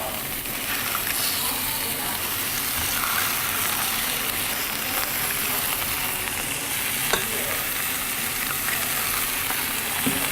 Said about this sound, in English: Pan is hot enough now, so I'm adding my meatballs.